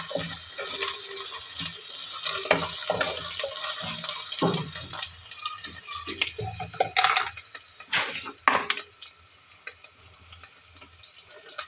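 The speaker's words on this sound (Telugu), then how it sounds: "పచ్చి వాసన పోయేదాకా వేపాలి ఇది అల్లం వెల్లిపాయలు" Ginger and garlic frying in a pan, a soft sizzle under scattered scraping and clinking of a spoon stirring, with irregular bursts of clatter and splashes, fairly close and without talking.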